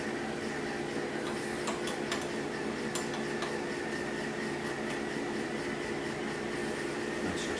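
Singer 2517c household sewing machine stitching at a moderate, unhurried pace, giving a steady, fairly quiet mechanical ticking hum that runs continuously throughout with no talking.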